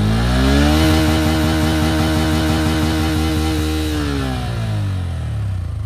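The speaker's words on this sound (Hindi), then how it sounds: "तो आप ये देख रहे हो भाई आरपीएम लिमिट भी लिमिटर तक जा चुकी है" A Bajaj Pulsar N160 motorcycle engine revs hard up to its rev limiter. A loud, close, buzzing drone holds at high revs with the stuttering pulse of the limiter, then eases slightly.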